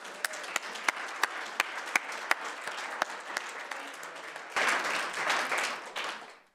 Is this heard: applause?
yes